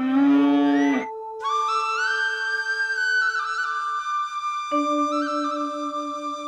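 Dairy cows, including Holstein Friesians, moo loudly in a cattle shed, a couple of long drawn-out bellows with a short pause between them, close by and without talk.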